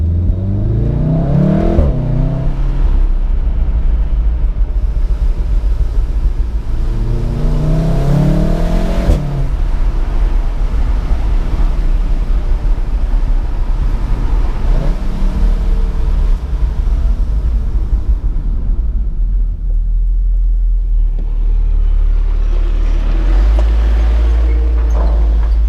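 A 2016 VW Golf R with DSG and 4Motion accelerates hard in race mode, its engine revving up through repeated rising pulls with gear changes between them, loud and close inside the car.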